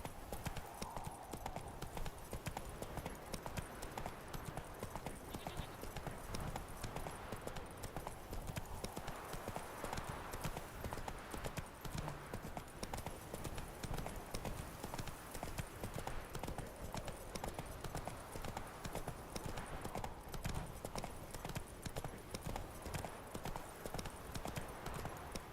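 Roach, the horse in The Witcher 3 game, trots with quick, evenly repeating hoof clops that run without a break, fairly quiet under a soft wash of in-game ambience.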